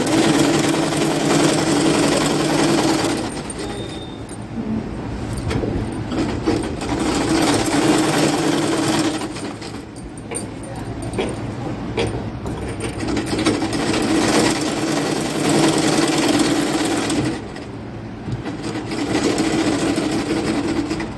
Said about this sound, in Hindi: लॉक करके इसको इस तरीके से सिल।